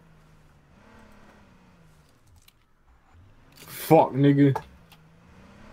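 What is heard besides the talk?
car being driven in H1Z1 video game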